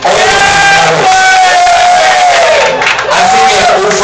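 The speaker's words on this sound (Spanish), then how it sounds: "Y merece un aplauso." A loud, roaring crowd cheers and whoops at a drag show performance, sustained shouting and screaming filling the room continuously without a break.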